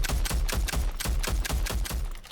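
Fixer's rapid-firing gun in Rogue Company rattles off a fast, even string of sharp shots, about four per second, each a crisp crack with a low thump, fairly quiet and steady with no voices.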